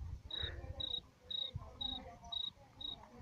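A person imitates a cricket: six short, evenly spaced high chirps, fairly faint, over low background rumble.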